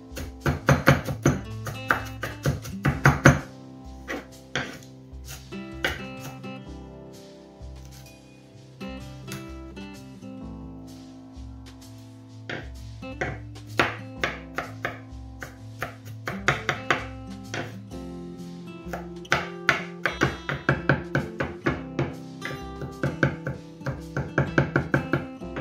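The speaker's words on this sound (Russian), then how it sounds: "Ну вот я что-то предпочла это все порубить ножом" Herbs and garlic finely chopped with a knife on a board for eggplant rolls with a nut filling, heard as rapid, rhythmic close knocks in bursts that come and go under background music.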